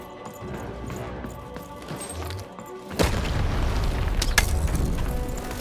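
A video game cannon fires: a deep boom bursts in partway through, followed by a sustained rumbling crash, loud and close against a busy game background.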